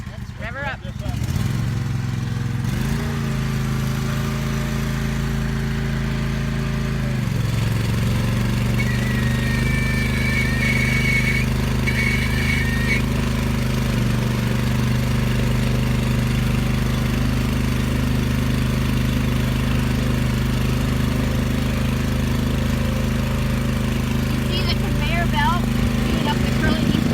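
A large engine on an aquatic weed harvester runs loudly and steadily, its pitch rising as it revs up and then holding a sustained drone.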